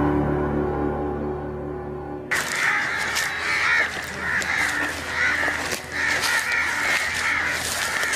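A flock of crows erupts into sudden loud cawing after a low steady hum, many harsh repeated caws overlapping in a dense, continuous commotion outdoors.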